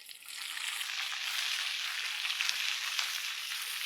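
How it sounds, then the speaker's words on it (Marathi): Ajwain seeds temper in hot ghee for a tadka, a steady bright sizzle that holds close and even for the whole stretch. "अजवानचा तडका"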